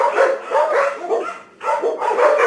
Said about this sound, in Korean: 저기 아래쪽에서 짖는 소리가 들려요.